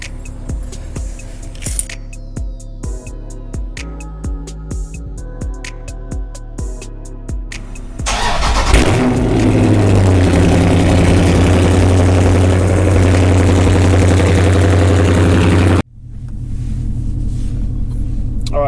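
A car fitted with a Pedal Commander throttle controller cold-starts with a loud burst, then settles into a steady, deep idle rumble that runs unbroken for several seconds before cutting off abruptly, with other tonal sound playing before the start.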